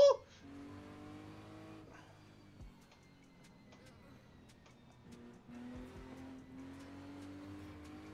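A simulated car engine in the Assetto Corsa racing game rises and falls in pitch through a few quiet revving pulls, with faint clicks in between. A voice talks over it.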